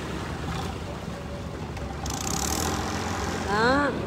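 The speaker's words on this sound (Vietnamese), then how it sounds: "Đó, coi các ghe hả" Boat engines drone at the Cái Răng floating market on a Mekong Delta river, a steady low rumble under Vietnamese voices, with a brief rising whine near the end.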